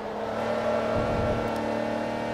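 Aston Martin race car engine in Forza Motorsport 3, a steady loud drone with rising revs and a brief swell of acceleration around the middle, close and continuous with no talk.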